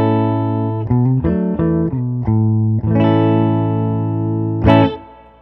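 Clean electric guitar notes and chords through a Fender Princeton Reverb tube amp, with a low, warm tone, played at a moderate pace, each note ringing out with a touch of reverb, then a final strum.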